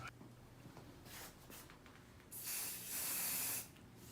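Waterproof hair sealer sprayed onto thinning hair, heard as a few short soft aerosol hisses and then one longer, louder burst lasting about a second, close to the mic.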